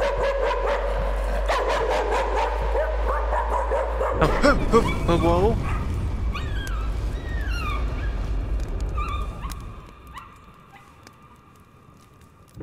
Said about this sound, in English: Is the painting barking at me?